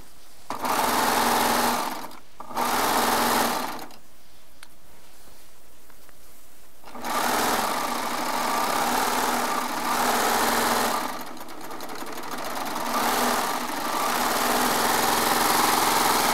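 A serger runs in loud sustained bursts, its knife trimming the edges of jelly roll charm squares for a layer cake quilt; several runs stop and start, with quiet pauses between.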